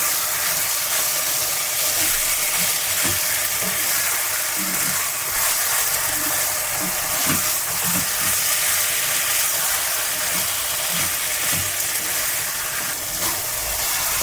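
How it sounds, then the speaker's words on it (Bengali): Chicken tossed with spices sautés in a pan over high flame, giving a steady loud sizzle and hiss throughout, with occasional stirring clatter and no voices. "চিকেনটা আমাকে ভালো করে কষাতে হবে।"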